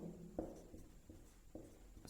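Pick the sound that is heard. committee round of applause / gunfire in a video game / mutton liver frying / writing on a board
writing on a board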